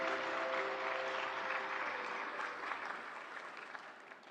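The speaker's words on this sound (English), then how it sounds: "A huge round of applause," Sustained audience applause at a Civil Accounts Day celebration in New Delhi, a dense even wash of many hands clapping that holds steady before gradually thinning toward the end.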